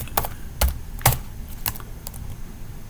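Keys on a computer keyboard are tapped in a short, uneven run of crisp clicks, close and fairly loud, with gaps between keystrokes and no voices.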